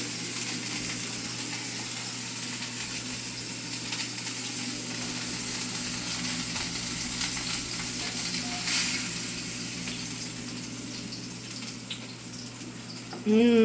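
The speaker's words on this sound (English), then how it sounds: "we're going to cook the burger" A bison burger patty fries in a hot pan with steady, close sizzling and crackling that carries on throughout, with faint background noise and a brief louder bump at the end.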